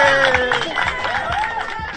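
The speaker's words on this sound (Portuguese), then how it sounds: "É claro que os aplausos estão repletos de ironia." A crowd applauds with a loud, continuous wash of clapping mixed with cheering and excited voices, dense and close from start to finish.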